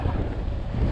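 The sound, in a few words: wind blowing outdoors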